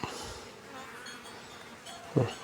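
Wild bees buzz and hover around a freshly cleaned bait hive box outdoors, a steady close insect drone with a brief louder thump near the end.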